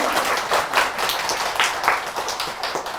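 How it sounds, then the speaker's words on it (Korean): An audience at a Buddhist Dharma service claps steadily for a few seconds, a dense, lively patter of applause throughout. "박수 부탁드릴게요"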